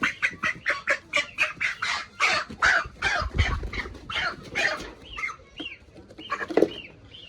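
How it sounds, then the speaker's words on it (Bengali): Broiler chickens being caught for weighing cluck and squawk in rapid, agitated bursts at close range, ending in a few sharper calls, with no voices over them. "যে কোনো ৩টা মুরগিকে ধরি।"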